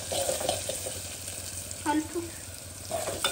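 Curry leaves and ginger-garlic paste sizzle in a pan for a ramulakayala curry while being stirred, a steady close frying hiss with a few soft scraping knocks from the spoon.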